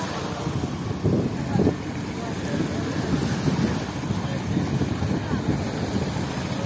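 A fishing trawler arriving at a river landing at Chairman Ghat in Noakhali, its engine a low rumble under steady wind buffeting the microphone, with people talking nearby.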